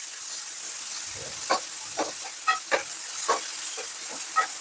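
Onions frying in a pan while chole puri is cooked make a steady high hiss, with scattered short pops and crackles rising above it at irregular intervals.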